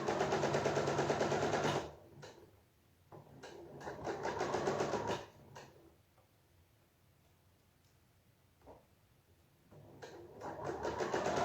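Sewing machine stitching fabric during a clothing alteration, running in steady bursts of mechanical whirring separated by short pauses.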